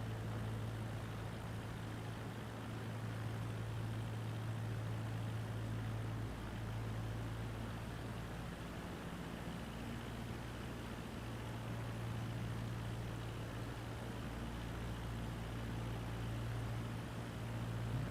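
A propeller airplane near traffic-pattern altitude drones with a low, steady engine hum and airflow while power is added in flight. The sound stays continuous and even, fairly quiet, with no talking.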